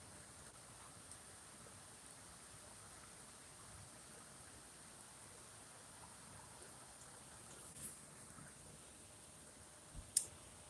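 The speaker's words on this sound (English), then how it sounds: "The rain started about 5 minutes ago." Rain during a storm: a faint, steady hiss of distant rainfall with a few soft clicks and drips, louder taps near the end.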